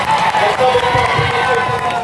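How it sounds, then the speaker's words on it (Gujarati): A crowd at a political rally in support of an MLA cheers and claps, a dense, loud, continuous roar of voices and applause close by that stays steady throughout. "આપણે એકવાર તાળીઓથી બધા ખૂબ વધાવી લઈએ."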